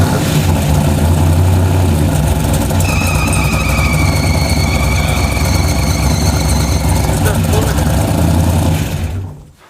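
A junkyard Hemi V8 in a Hemi Gasser runs steadily at idle, a loud, close, rough low rumble that holds for about nine seconds before cutting off abruptly at the end.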